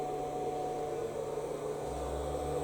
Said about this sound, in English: That noise you can hear in the background are the fans coming on to cool the inverters down